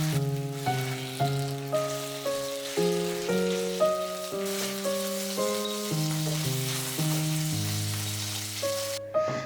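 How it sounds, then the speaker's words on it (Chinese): Minced pork stir-fried with chopped Pixian bean paste hisses and crackles steadily in the pan, a continuous sizzle under music. "家里可以简单的用剁碎的郫县豆瓣酱和猪肉末炒一炒。"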